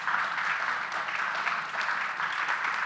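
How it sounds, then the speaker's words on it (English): Audience applause at the close of a panel session at the 11th GSSC Vilnius Forum, steady, moderately distant clapping sustained throughout with no talk. "I would ask you for a big applause to all of my fantastic guests"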